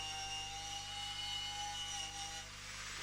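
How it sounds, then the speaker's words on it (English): Wire wheel on a power tool scrubbing paint off the steel body of a 1980 Opel Kadett rally car, a steady high whirring grind that holds constant for a few seconds, fairly close. "I just can't resist going around a little bit with the wire wheel"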